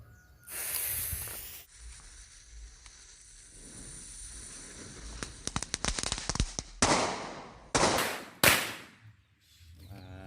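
Firecrackers set inside colourful water-filled balloons hiss loudly as fuses burn, then a cluster of sharp, close cracks and bursts erupts in quick succession.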